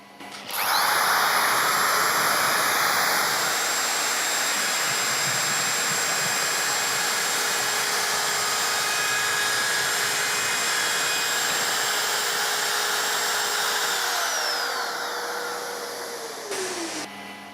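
Festool OFK 700 edge router trimming edge banding, a loud steady high-pitched whine that starts abruptly, runs continuously, then winds down as the motor spins to a stop.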